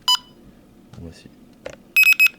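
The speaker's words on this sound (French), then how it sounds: "Vous pouvez voir également qu'il y a une sonorité différente sur les touches avant et retour, également sur la centrale." Keys on an alarm control panel give a short electronic beep, followed by a few quieter clicks and then a quick run of three bright beeps.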